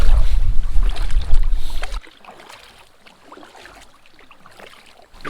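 Someone paddles an Alpacka Caribou pack raft on the River Waveney. Heavy wind rush and splashing come first, then soft, faint water dabbling and paddle strokes close by.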